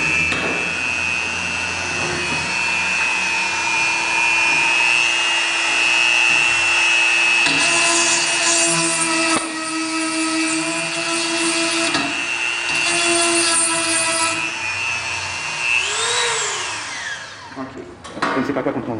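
A Dremel Micro-Grind drills a hole in a glass bottle, giving a loud, steady high-pitched whine and grinding that changes pitch as the bit bites, then slows and winds down near the end, with a voice talking at times.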